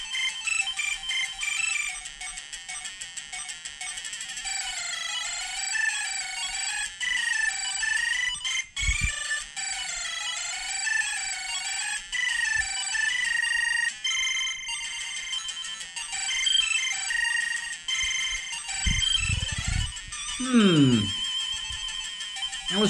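Bright, bleepy chiptune demo music from a ZX Spectrum 128 game plays on a ZX Omni, warbling melodic lines repeating steadily, with brief interruptions and a voice chiming in near the end.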